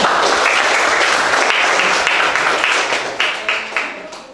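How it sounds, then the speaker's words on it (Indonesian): Audience applause for two presenting groups in a classroom session, steady dense clapping throughout that thins into separate bursts near the end. "Kita beri aplaus untuk 2 kelompok ini."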